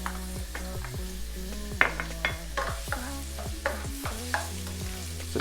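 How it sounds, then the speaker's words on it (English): Onion and mushroom frying together in oil in a home kitchen, a steady sizzle under repeated clatter and scrapes of a utensil stirring against the pan, with sharper knocks every second or so. "So add in the onion and the mushroom together"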